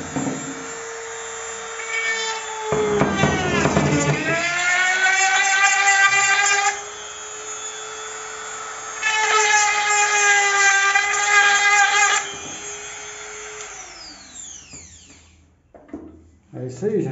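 A power drill boring into PVC, two long whining bursts with rising and falling pitch separated by a steadier hum, close and loud, winding down at the end.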